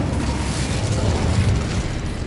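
A fire spell cast in the video game Hogwarts Legacy, heard as a steady, loud roaring whoosh of flame with a deep rumbling body that holds for the whole couple of seconds without pause.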